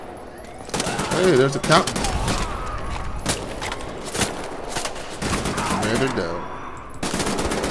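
Bursts of automatic gunfire from Wolfenstein: The New Order rattle through the clip in repeated sharp volleys, mixed with in-game voices and talk.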